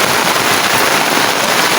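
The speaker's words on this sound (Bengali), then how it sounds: "দেখেন অনেক বৃষ্টি পড়তেছে।" Heavy rain pours down steadily at close range, a dense, unbroken hiss of water falling with no pauses and no voices over it.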